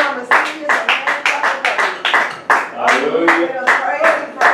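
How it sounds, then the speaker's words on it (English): A church congregation claps in praise, loud, even rhythmic hand claps repeating at a quick, steady beat throughout, with voices mixed in among the claps. "Let us give Yeshua on the seat some hand clap of praise."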